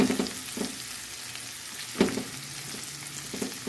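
Onions frying in a pan: a steady, close sizzle with a few sharper stirring scrapes and clicks scattered through, and no voices.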